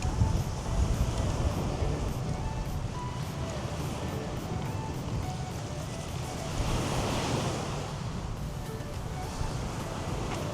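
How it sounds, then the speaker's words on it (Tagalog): Ocean surf at high tide with tall waves rolling in at a fishing spot, a steady broad wash of breaking water and wind that swells louder around the middle, with a voice talking faintly in places. "High tide pa naman, oh. Taas ng alon, oh."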